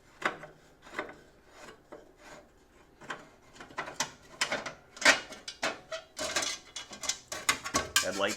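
Phillips screws are worked out of a Corvair headlight bezel with a screwdriver, giving repeated close scraping, squeaking turns and small metallic clicks in an uneven rhythm.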